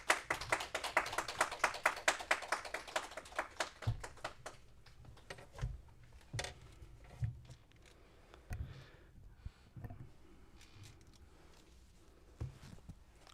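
A church congregation at a joint Sunday worship service claps in welcome, a quick rhythmic run of claps for a few seconds that breaks off into scattered taps, thumps and shuffling movement.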